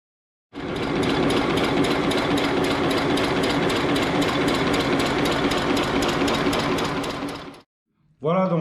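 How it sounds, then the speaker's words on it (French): Steam locomotive running gear and chassis driven on compressed air, a loud, steady, rapid mechanical clatter and chuffing that runs for about seven seconds and then stops, followed by a short burst of speech. "on va déjà tester toute la mécanique et tout le châssis, le train de roulement à l'air comprimé."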